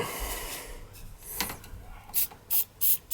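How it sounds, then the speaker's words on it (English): A wrench works at a nut on a boiler during a replacement job, first with scraping metal sounds, then a run of four distinct ratcheting clicks near the end. "Trying to get this nut off of here."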